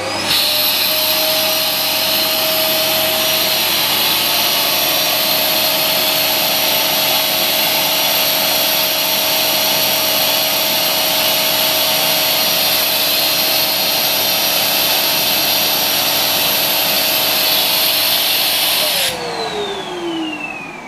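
A homemade vacuum pump for degassing silicone runs with a loud, steady whine and drone for about nineteen seconds, then shuts off and winds down.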